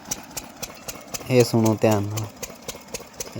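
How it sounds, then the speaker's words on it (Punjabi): A diesel engine driving a tubewell pump on a farm field thumps in a fast, even rhythm nearby, with a short spoken phrase in the middle. "ਇੰਜਨ ਚੱਲ ਰਿਹਾ ਮੈਂ ਤੁਹਾਨੂੰ ਇੰਜਨ ਦੀ ਰੀਅਲ ਆਵਾਜ਼ ਸੁਣਾਉਣਾ"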